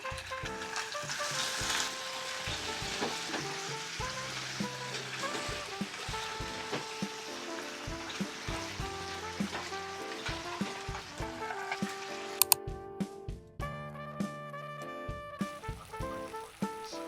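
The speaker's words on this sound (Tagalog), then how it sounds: "So, right now, ang gagawin naman natin ay ipiprito ito" Spicy pork bulgogi fries in a pan, giving a steady close sizzle that runs the whole time under loud tonal background music, with a brief sharp click near the end.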